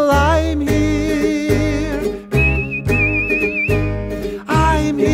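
A person whistles a bright melody with wavering vibrato inside a song, heard clearly over a steady band backing with bass and chords.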